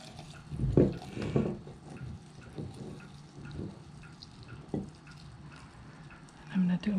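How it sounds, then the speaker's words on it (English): Water is poured into a container to cover dry ingredients, heard as intermittent splashing gushes of uneven strength against a quiet room background. "Now we'll put our water in"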